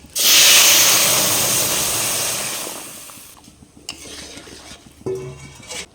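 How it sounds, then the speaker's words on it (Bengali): Lentils tipped into a pan of spices tempered with bay leaf, five-spice and dried chilli, a loud burst of hissing sizzle that slowly fades, followed by a few clinks and scrapes of a utensil against the pan. "এবার ডালটা দিয়ে দেবো।"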